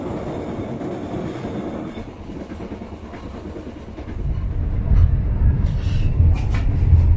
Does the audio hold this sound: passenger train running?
yes